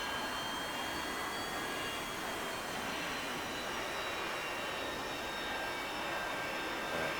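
An A-4 jet engine runs on the runway in DCS World, a loud, steady broadband roar with a thin high whine layered on top, unbroken throughout and without talk.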